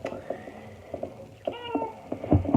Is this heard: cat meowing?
yes